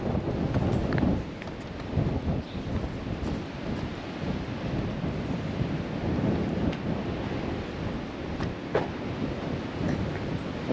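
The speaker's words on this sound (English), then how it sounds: "the wind is about blowing us away today." Strong gusty wind buffets the microphone outdoors at Carlsbad Caverns, a steady loud roar with heavier rumbling gusts and no voices.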